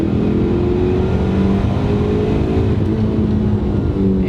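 A Mitsubishi Eclipse GSX all-wheel-drive car accelerates hard, its engine a loud, steady, close drone with a rich harmonic tone that holds throughout, with no talking.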